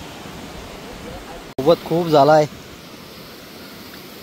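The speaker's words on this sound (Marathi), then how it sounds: "हाच तो धबधबा, हेडन धबधबा" A hidden village waterfall rushes as a steady, loud broadband roar that fills the whole clip, with someone briefly talking over it near the middle.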